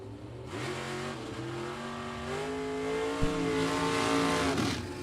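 Two drag racing cars launch side by side, a short-wheelbase dragster and an old Oldsmobile Cutlass, engines roaring loud and close with rising pitch as they accelerate hard, a brief sharp bang midway, sustained and building throughout.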